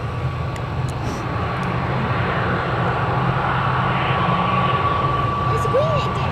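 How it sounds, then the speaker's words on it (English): An ATR turboprop airliner comes in to land at Newcastle Airport, a loud, steady propeller drone with a thin whining tone riding over the rumble, sustained throughout. "Once this ATR lands."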